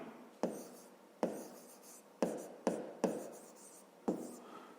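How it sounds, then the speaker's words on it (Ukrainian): A pen writes on paper while a fifth-grade math exercise is worked out, giving a few close, quiet scratching strokes that start and stop in a steady, separated rhythm with no voice over them. "Записуємо тоді перша дія. Ну і пишемо якщо."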